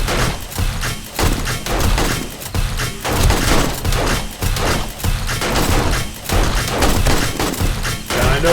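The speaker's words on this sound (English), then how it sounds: "I know this gun is fully automatic." Fully automatic gunfire in 7 Days to Die comes in repeated rapid bursts of loud close shots with thuds, steady and dense across several seconds with brief pauses between volleys.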